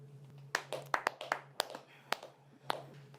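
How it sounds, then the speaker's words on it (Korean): A small office team claps hands briefly, a quick scatter of sharp close claps that thins out, with a faint low background hum and no talking. "자, 박수!"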